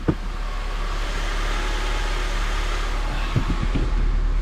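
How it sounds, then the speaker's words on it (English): Turbocharged K-series engine in a Honda Element idling steadily at about 1,000 rpm, a constant low hum and whir with a few faint clicks and knocks, close by and without voices. "Car is on. Idling."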